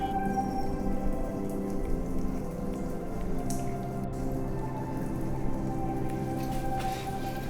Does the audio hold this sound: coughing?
no